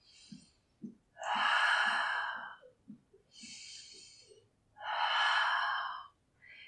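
Slow, deep breaths during a full-body stretching session: two long airy inhale-exhale cycles, close and soft, with quiet rustles and small breathy sounds in between.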